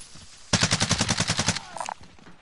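Rapid burst of submachine gun fire in a video game, about a dozen evenly spaced loud shots over one second, followed by a few scattered clicks and a short metallic tone.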